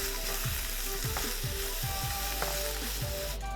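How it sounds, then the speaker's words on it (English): Zucchini sizzles in hot oil in a pan for a vegan bibimbap, a steady dense hiss broken by a few soft rhythmic scrapes of stirring, close and fairly loud with no talking. "Toss our zucchini in the oil on the pan."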